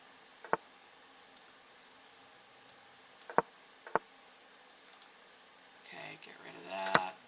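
Sharp mouse clicks on a computer while stepping quickly through chess moves, a few isolated clicks spread out and then a faster cluster near the end, close and fairly loud over a quiet room with faint background noise.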